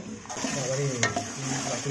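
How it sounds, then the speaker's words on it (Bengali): Papad (poppadom) frying in a pan of oil at a rooftop picnic, a steady close sizzle with stirring scrapes and a brief clink, under a faint low hum. "এবার পাঁপড় ভাজা হচ্ছে"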